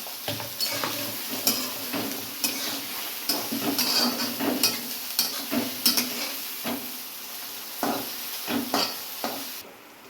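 Onions frying toward golden brown in a pan crackle steadily as a spoon stirs and scrapes them in repeated strokes, close and clear, with no talking.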